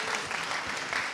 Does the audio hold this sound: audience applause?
yes